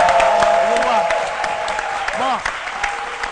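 A studio audience on the C' Midi television show claps in a dense burst of applause that slowly fades, while someone speaks over it.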